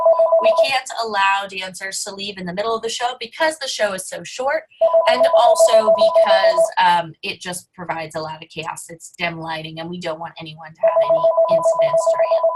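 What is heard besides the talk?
mobile phone ringing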